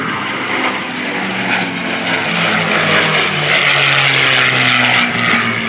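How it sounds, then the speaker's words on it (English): Mustang warbird with a Rolls-Royce engine passing at a military air show, a loud, steady, droning propeller roar that holds throughout without speech. "But the motors we were listening to, those Rolls-Royce motors, when the Brits put it on this Mustang"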